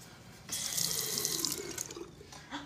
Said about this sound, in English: There is a tiny sink, though.